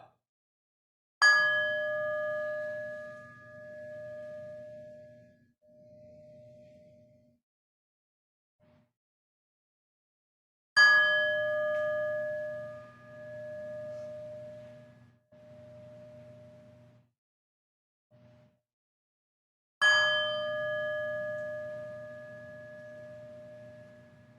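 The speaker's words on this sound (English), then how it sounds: "prepare to begin worship by hearing the sound of the bell" A worship bell is struck three times at even intervals of about nine seconds. Each strike is a clear, bright ring that decays slowly in a quiet room, with no voices.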